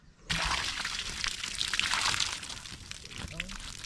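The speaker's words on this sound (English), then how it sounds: "let's soak this Olla and get it ready to do its job." Water gushes and sloshes as it is poured to soak a clay olla garden watering pot, a steady close pour that starts abruptly and trickles down near the end.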